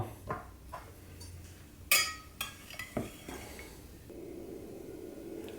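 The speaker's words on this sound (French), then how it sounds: "j'ai commencé à couper mon dessert en parts" A knife cuts a frozen cherry marquise dessert into portions, making faint, sparse clicks and light scrapes of the blade against the plate, close by in a quiet room.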